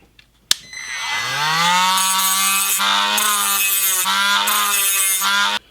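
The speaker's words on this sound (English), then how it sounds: "we're going to just grind some of this off to get rid of that split section" A loud, continuous high-pitched grinding whine from a rotary tool grinding a split section off a Hot Wheels VW bus model, holding steady for several seconds with brief dips.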